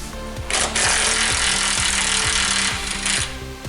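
A pneumatic impact wrench hammers loose a 19 mm nut on the front suspension of a Hyundai Santa Fe, a loud, rapid, continuous rattling burst lasting about three seconds over the whine of the air tool.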